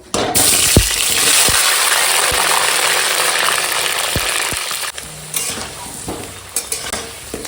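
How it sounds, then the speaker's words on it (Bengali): Potato pieces fry in hot oil for a vegetable and chicken curry, giving a loud, continuous close-up sizzle. Sharp knocks of a spatula stirring in the pan break in at intervals. "এখন আলুটা আগে তেলের উপর ভেজে নেবো"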